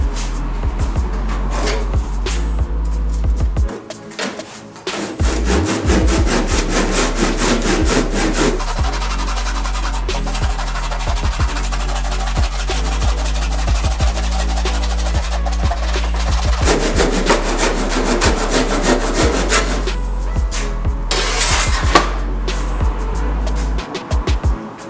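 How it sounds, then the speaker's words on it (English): A handsaw cuts through an old wooden beam in steady back-and-forth strokes, a rhythmic rasping close by with a short pause partway through before the sawing resumes. "attempt to get a straight cut with the handsaw"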